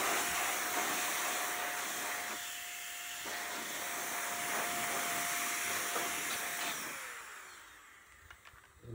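A hair dryer blows dust out of a gaming PC in a continuous close, loud whooshing roar with a faint steady whine, easing and dropping off near the end.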